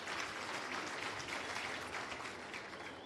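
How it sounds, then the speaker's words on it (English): Audience at the launch of a skills development centre in Limpopo applauds the minister with continuous, even clapping from many people, heard at a fairly distant, subdued level. "I think he deserves a round of applause."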